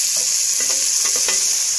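Onions and tomatoes sauté in a pan for a goat intestine curry, with a continuous close, loud sizzle and a few soft stirring scrapes.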